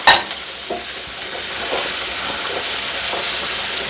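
Finely chopped ginger sizzles and hisses in a hot pan, with a clink of a utensil at the start and soft stirring scrapes over a steady frying crackle.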